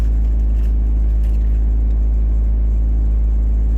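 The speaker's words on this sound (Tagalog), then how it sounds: "I-leave ko lang yung makina na open para" A car engine idles steadily, a low continuous rumble with a faint whir, close and unchanging throughout.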